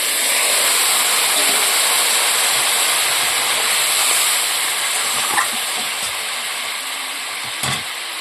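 Water poured into masala cooking in a hot pan, giving a loud, sustained steamy hiss that fades a little toward the end, with a couple of brief clinks.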